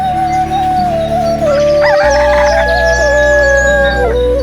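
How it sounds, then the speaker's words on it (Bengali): Native country chickens on a small home farm cluck and crow close by, a rooster's drawn-out crow rising over steady background hum, with no talking. "এইটা দেশি মুরগির ফার্ম। এখানে অল্প কিছু দেশি মুরগি পালন করা হচ্ছে।"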